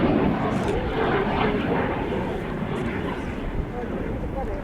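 Red Arrows jet aircraft pulling up in a boomerang maneuver at the RIAT 2022 airshow, a loud, continuous broadband roar that fades slightly. An announcer talks over the jet noise throughout.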